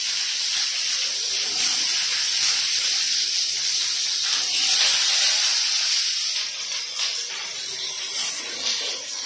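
Okra is added to hot mustard oil in a wok and fries with a loud, steady sizzling hiss that eases slightly toward the end. There are no voices.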